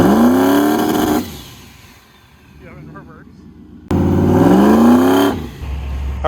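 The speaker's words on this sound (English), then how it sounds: "When the car backs up on a trans brake, there's usually something wrong with the transmission" A drag car revs hard while held on a transmission brake, the engine roaring loudly, dropping off, then surging again, with people talking around it.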